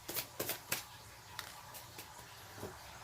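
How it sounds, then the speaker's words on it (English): Cards are riffled and shuffled in a few quick bursts, close and fairly quiet, with a faint room hum beneath. "Let me shuffle these ones up."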